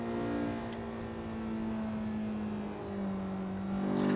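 A race car in a touge racing video game circles the track alone, its engine holding a steady droning tone that shifts pitch slightly, loud and continuous with no talk.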